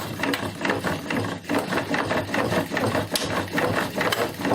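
A treadle-powered lathe runs close by with a steady, rhythmic whirring and rubbing, pulsing with each push of the treadle for several seconds, with no talk.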